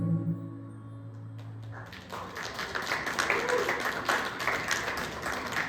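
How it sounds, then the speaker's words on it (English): Soft, scattered clapping from a small live audience at a band's set at the Colony in Woodstock, New York, rising after a fading sustained chord and continuing gently with a roomy, echoey feel. "Thank you for that echoey round of applause, that gentle round of applause"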